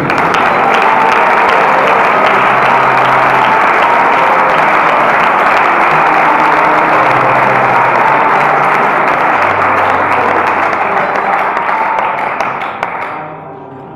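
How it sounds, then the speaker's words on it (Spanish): Loud, dense applause from a large audience at a religious sermon in Logroño, sustained steadily for about thirteen seconds before tapering off at the end. "Dar un aplauso a Dios."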